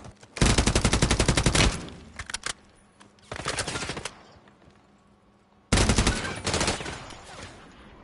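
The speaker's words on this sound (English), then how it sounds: "They're shooting from up there, bro." Enemy gunfire in the battle royale game Call of Duty Warzone: loud bursts of rapid automatic fire in three clusters separated by brief pauses, close and sharp, mixed with a few single shots.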